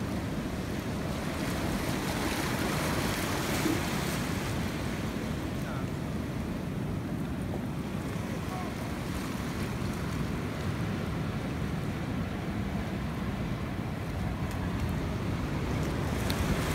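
Ocean surf washes steadily around the pier at Cayucos, California, a dense, continuous roar mixed with wind rumble that never lets up and carries no voices.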